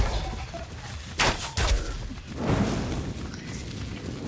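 Muffled gunfire cracks out twice in quick succession over a dense, rumbling game soundscape with no clear speech.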